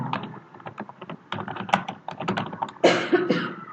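Typing on a computer keyboard while writing JavaScript form validation code, bursts of close, clicky keystrokes with short pauses and a cough partway through.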